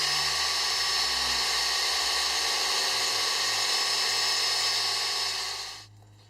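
A high-pitched power drill with a 1/8 inch bit whines steadily for several seconds up close, then spins down and stops.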